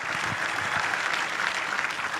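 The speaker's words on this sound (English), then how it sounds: "Round of applause again." A crowd claps at the 2022 North American International Auto Show debut of the new Ford Mustang, giving a brief burst of steady, dense applause close at hand that lasts a couple of seconds.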